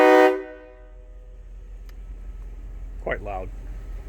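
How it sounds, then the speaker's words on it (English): A single loud, short blast from the train horn fitted to a lifted second-generation Ram pickup, ringing out first and then fading into quiet idle rumble, with a brief bit of speech near the end. "I'll give you a little shot of the train horn."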